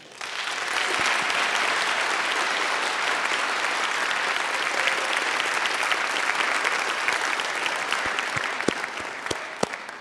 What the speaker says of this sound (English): I hope you noticed that I joined the applause.